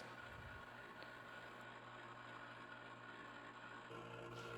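An ice cream maker churning custard with a plastic stirring paddle, a faint, steady mechanical whir with a low continuous hum and slight rattling, close by and without talk.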